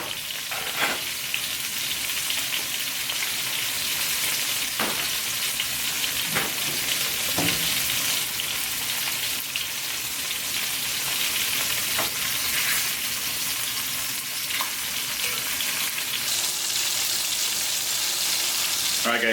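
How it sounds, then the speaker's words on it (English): Floured white bass fillets fry in a pan of oil, a loud, even crackling sizzle that holds steady throughout with a few faint clicks and pops. "So let's get the fish in the pan."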